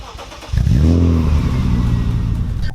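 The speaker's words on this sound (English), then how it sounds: "why don't we listen to its startup?" 1996 BMW M3 in Roblox starting up: a brief cranking, then the engine catches with a loud rising flare and settles into a steady close idle, no talk.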